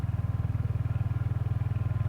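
A Royal Enfield Hunter motorcycle engine running steadily at a rapid, even putter, close and loud, with wind noise and no talking.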